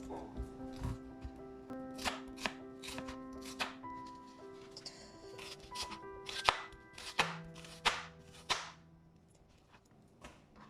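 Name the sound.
chopping a white onion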